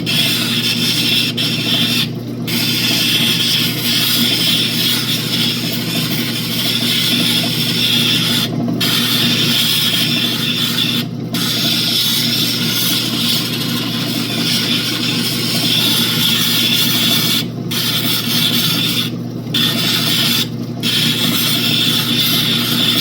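A lapidary belt wheel grinds an opal with a steady, loud whirring hiss. Brief dips in the sound mark where the stone is lifted away from the belt. The grinding runs continuously with no speech.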